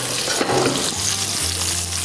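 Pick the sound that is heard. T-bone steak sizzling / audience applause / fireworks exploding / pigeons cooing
T-bone steak sizzling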